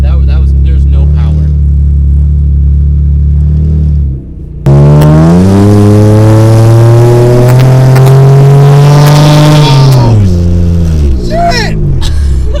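A Honda Accord with no exhaust accelerates at full throttle, a loud raw engine note climbing steadily in pitch for several seconds after a brief lower rumble, close and dominant, then dropping off as the throttle lifts.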